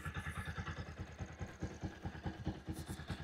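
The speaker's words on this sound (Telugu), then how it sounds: "బండిని ఇట్లా ఐడల్ స్టేట్లో రన్నింగ్లో పెట్టి" A second-hand motorcycle engine idles in a steady, rapid, even thumping rhythm, heard close up and fairly quiet with no other sounds.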